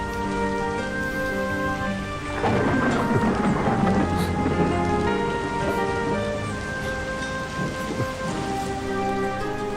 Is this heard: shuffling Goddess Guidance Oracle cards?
no